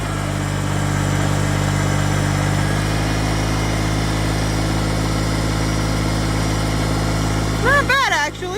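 Tractor engine running at a steady idle, a loud continuous drone with a pitch shift partway through, while a voice speaks briefly near the end.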